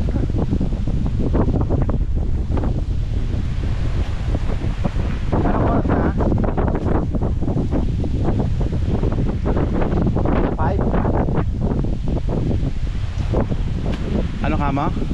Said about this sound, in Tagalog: Lakas talaga ng lakas ng hangin.